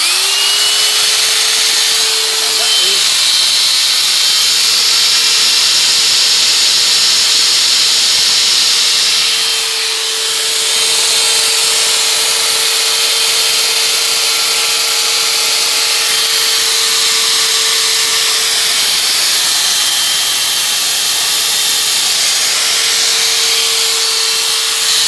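A 1150 W electric chainsaw for the 110 V Japanese domestic market runs with a steady, close, high whine over broad hiss. It dips briefly near the start and again midway, then keeps running alone without talk.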